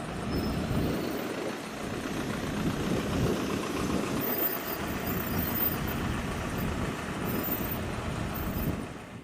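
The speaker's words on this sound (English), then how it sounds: "Each oversized vehicle slowly rolls across the Yagan Bridge, its engines roaring" Oversize heavy haulage trucks carrying Cat mining truck parts cross the Yagan Bridge in Western Australia, with engines giving off a loud, steady, rumbling roar that continues throughout with no talking.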